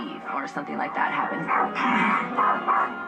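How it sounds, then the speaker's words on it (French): Dog barking at visitors who are leaving, with short yips and whining barks in quick succession, close and loud, mixed with talk. "il le fait savoir très bruyamment en n'arrêtant pas d'aboyer"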